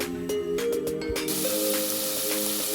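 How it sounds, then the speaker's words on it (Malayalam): Tomatoes, onions, green chillies and ginger sizzle as they sauté in a pan for a tapioca biryani. A steady, close frying hiss runs throughout, with a few brief sharper bursts near the start. "ഒന്ന് വഴറ്റി വരട്ടെ."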